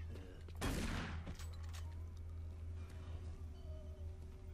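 Shotgun fire in the video game Doom 3, one loud close blast followed by a fading tail, over a steady low mechanical hum that continues afterward.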